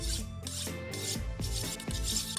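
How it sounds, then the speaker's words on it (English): A kitchen knife is drawn repeatedly across a sharpener, several rasping strokes in steady succession, close and fairly loud with no talking. "Give your favourite knife a nice sharpen."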